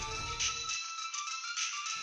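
A mobile phone rings with an incoming call, a bright repeating electronic melody sounding close and clear, with low background sound dropping away partway through.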